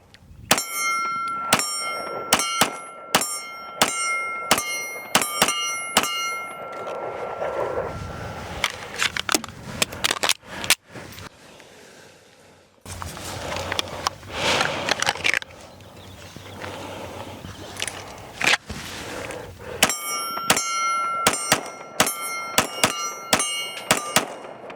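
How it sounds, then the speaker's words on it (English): An Archon Firearms Type-B handgun fires repeated shots at a steel silhouette target. Each crack is followed by a bright metallic ring from the steel, with irregular strings of shots and short pauses between them. "shooting at the big silhouette"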